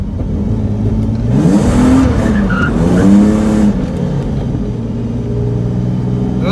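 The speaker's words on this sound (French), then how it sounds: "Moi j'ai l'habitude de drifter avec la E30" A BMW E30 car drifting, its engine roaring loud and close with rising and falling revs and tires squealing as it slides.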